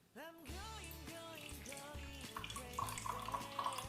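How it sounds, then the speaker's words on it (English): Pineapple juice pours and trickles steadily through a strainer, faint and continuous, with soft music playing underneath. "Here is my strainer. I'm going to strain the water."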